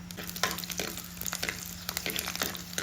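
Green chilies and curry leaves crackling in hot coconut oil for a Kerala-style tomato curry, a steady close sizzle with sharp popping spits and occasional stirring scrapes.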